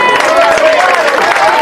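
A brief, steady wash of audience applause fills the hall at a year-end party, loud and close, with faint tonal sound mixed underneath.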